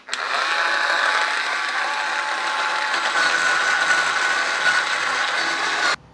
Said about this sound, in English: next I'm going to use this scouring pad to do the stove